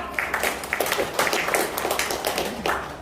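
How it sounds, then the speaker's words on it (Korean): Audience applause welcoming the chair of the Chungnam village-making council to the front at a policy meeting, a brisk scatter of individual claps forming a moderate, steady patter in a hall. "큰 박수 부탁드립니다"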